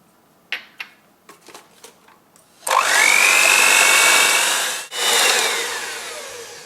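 Eggs and sugar being beaten with an electric mixer for an almond cake: a few light knocks, then a loud, steady motor whir that briefly cuts out and resumes, slowly fading, with no talking.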